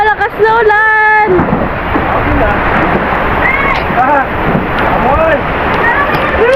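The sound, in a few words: heavy rain pouring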